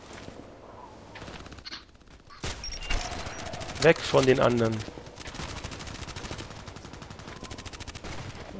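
Gunfire in the online shooter Contract Wars, with bursts of automatic shots and single cracks at varying distance, loudest in the middle and then a lighter rattle, while someone talks over it.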